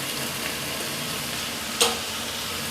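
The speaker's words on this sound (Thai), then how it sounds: "ตอนนี้ก็ผัดให้ทุกอย่างสุกดีนะครับ" Pork, kaffir lime leaves and boiled pickled bamboo shoots stir-fried in a hot pan, a dense continuous sizzle with one sharp spatula clink partway through.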